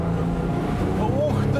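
Twin 250-horsepower V6 outboard motors on an amphibious GAZ-24 Volga boat roar loudly and steadily as they accelerate, a continuous close drone with rising tones.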